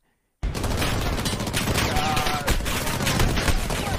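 Dense, rapid gunfire from a Call of Duty: Modern Warfare campaign match, loud and continuous after a short silence, with overlapping automatic bursts and shots and no pause.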